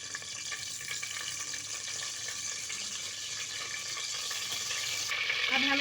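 Bay leaf, cinnamon pieces and small green chillies sizzling in hot oil in a pressure cooker, a steady close crackling hiss that builds slightly toward the end, with no talk.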